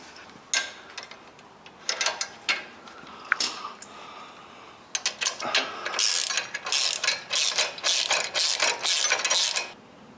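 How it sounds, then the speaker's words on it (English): Ratchet clicking from a 9/16 socket wrench tightening a control arm bolt on a Jeep JL Wrangler during a 2.5-inch lift kit install, with bursts of rapid pawl clicks that grow denser and louder in the second half, no talking. "I'm going to take a 9/16 wrench and a 9/16 socket."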